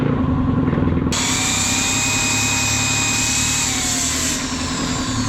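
A power drill bores a hole between a bolt and the camshaft holder of a Honda Supremo motorcycle head. It starts after a second with a sharp jump and then keeps a steady, loud, close whine that dips slightly near the end, with no speech.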